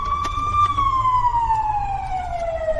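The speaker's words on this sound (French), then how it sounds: "Allumage des sirènes." An emergency vehicle siren wails steadily and fairly close, a single tone slowly gliding downward in pitch over a low rumbling background, with no one talking.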